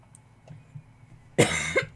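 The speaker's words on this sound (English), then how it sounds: "I'm just coughing here. I choked on my drink" A man coughs sharply two or three times after choking on a drink, close and loud, following a quiet moment.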